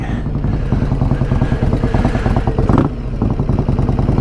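Custom motorcycle named Eleanor revving hard and loud close by, throaty bursts of throttle with a brief dip near the end before pulling again, steady engine roar throughout.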